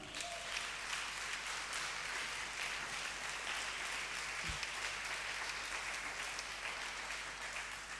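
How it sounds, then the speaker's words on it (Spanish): Church congregation applauding steadily and loudly throughout, a continuous dense wash of clapping during a revival service with no talking over it. "Denle fuerte ese aplauso, vamos."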